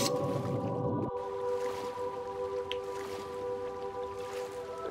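A character swims through water in the video game Oblivion, with soft squishy sloshing and drips under a sustained droning game tone that holds steady throughout.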